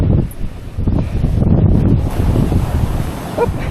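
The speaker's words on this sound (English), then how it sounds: "you're jumping on the waves, Rasha." Ocean surf rolls onto the beach at Anderby Creek, a loud continuous roar buffeted by heavy wind noise on the microphone, with faint voices underneath.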